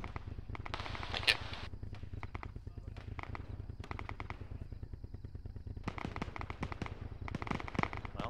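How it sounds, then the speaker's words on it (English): Rapid automatic gunfire crackles in Arma 3, with long bursts of shots, some near and some farther off, running through the whole stretch with short pauses between volleys. "Well, somebody's shooting back there."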